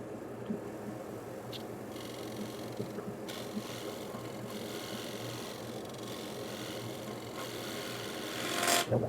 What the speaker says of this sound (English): Tears the end grain out a little bit with the scraper whenever I try and do it.